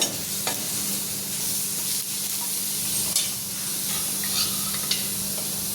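Onion and tomato fry in a pan with a steady, close sizzling hiss, broken by a few light scrapes and taps of stirring; no speech is heard.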